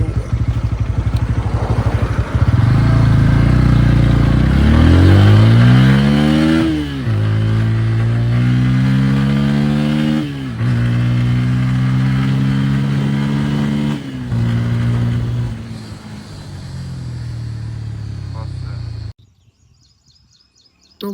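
A Bajaj Pulsar N160 motorcycle engine catches and revs repeatedly, loud and near, its pitch rising and falling through several throttle blips before cutting off abruptly near the end.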